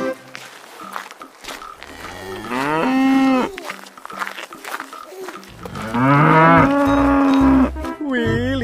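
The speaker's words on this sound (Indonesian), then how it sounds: "Di sini ada kerbau." A water buffalo in an animal-cleaning video game gives two long, loud, drawn-out moos, each rising and falling, with quieter game noises between them.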